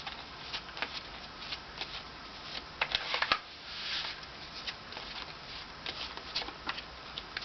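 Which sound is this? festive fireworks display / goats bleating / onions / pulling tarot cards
pulling tarot cards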